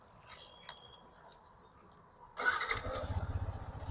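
A used Yamaha MT15 motorcycle is offered for sale. After near-quiet, the engine fires up abruptly and settles into a close, throbbing idle with a regular pulsing rhythm.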